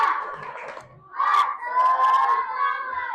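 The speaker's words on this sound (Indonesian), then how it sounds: "Oke, tepuk semangat." A school class calling out a rhythmic 'tepuk semangat' spirit chant, mixed shouting voices, strong bursts with a brief lull between them and no clear separate claps.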